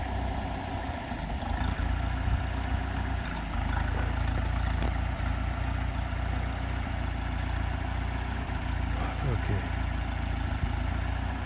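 A tractor engine idles steadily and loudly while cattle are fed hay bales on a warm late-February winter day, with a constant low rumble throughout and faint occasional knocks.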